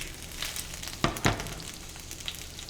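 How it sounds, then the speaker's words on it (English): Baby spinach with a little salt cooking down in a warm pan gives a soft, steady sizzle, with a couple of louder crackling bursts partway through and no talking. "We're going to add the spinach, a little bit of salt, and let this cook down."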